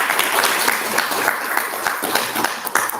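Audience applause for a freshman student council candidate at the close of an evening forum, fairly loud and continuous clapping from a crowd with sharper individual claps near the end, no speech on top.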